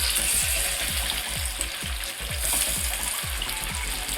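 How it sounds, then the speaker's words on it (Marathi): Pieces of oil fish sizzle steadily in hot oil, a constant close broadband hiss with soft bubbling pulses repeating throughout and no voices. "आणि आता हे मासा तेल फ्राय होण्यासाठी तेलामध्ये हे बघा मी टाकते."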